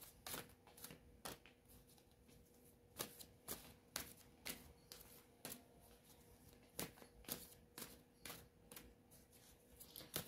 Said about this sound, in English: Let's take an angel card now.